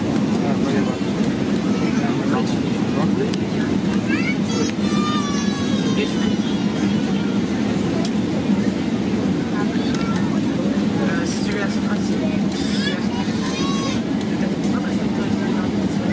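Cabin of an Air Austral Boeing 777-300 in economy, readying for takeoff from Saint-Denis to Port Louis: a constant loud engine and air hum fills the space while people chatter throughout.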